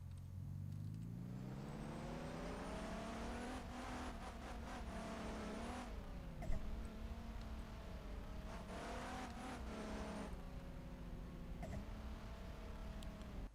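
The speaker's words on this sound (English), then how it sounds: "now this should play the downshifting audio effect" A car engine sound effect in a Unity game: a steady revving engine climbs in pitch, then drops sharply through several downshifts, with brief gear-change dips and a continuous smooth drone, heard alone.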